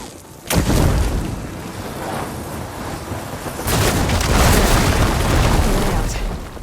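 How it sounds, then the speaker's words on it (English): Blaze barrels blow up after a hit from fire ammo in Horizon Forbidden West, a sudden loud boom followed by a rolling roar, then a second heavy blast with rumbling debris that trails off. "Hitting those blaze barrels with fire ammo should do the trick."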